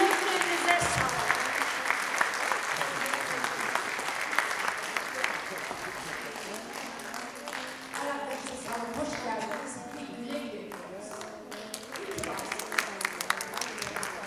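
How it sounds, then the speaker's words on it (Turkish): Theatre audience applauding after a stage play, a dense, steady wash of many hands clapping that carries on for the whole stretch, loud and close, with a few louder claps standing out near the end. "iyi ki onları alkışlayan seyirciler var"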